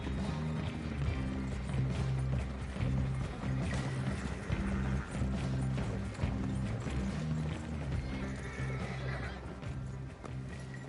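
Hooves of a horse-drawn wagon in Red Dead Online: a steady clip-clop rhythm continues throughout, with rolling wagon noise and an occasional horse snort or whinny mixed in.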